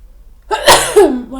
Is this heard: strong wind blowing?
no